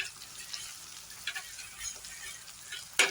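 Onions and spices frying in a pan for ghugni, a Bengali dish, giving a soft crackling sizzle with light stirring clicks and a brief sharper scrape at the end, fairly quiet and close.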